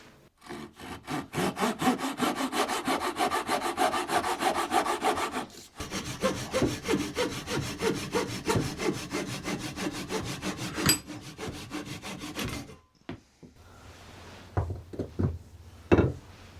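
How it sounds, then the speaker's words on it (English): A hand saw cuts a slot into wood for a WW2 fire axe bracket, with rapid, rhythmic rasping strokes close by, a brief pause midway, then a few scattered knocks and taps as the cutting ends. "I'm going to need to remove some more material. So I'm going to get it marked out and then cut away."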